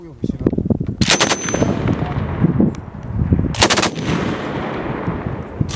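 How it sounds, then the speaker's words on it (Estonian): Two short bursts of three to five rifle shots ring out, loud and sharp, during volunteer defence league training, with softer rumbling and distant shots filling the gaps between them. "3-5 lasku on valang"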